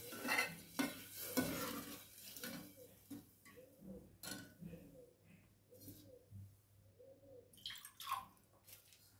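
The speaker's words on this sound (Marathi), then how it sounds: "आणि छान हलवून घ्यायचे आपल्याला।" A spoon stirs amti curry in a pot with a rhythmic series of soft scraping knocks, about a dozen strokes, close and quiet, with a few sharper clinks against the metal rim.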